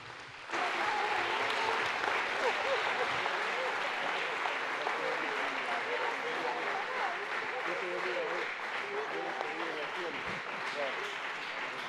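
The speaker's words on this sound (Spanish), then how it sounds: "Denle un fuerte aplauso a Jesús." A church congregation applauding during a Sunday service, a dense wash of clapping that starts abruptly and continues steadily for over ten seconds, with faint voices mixed underneath.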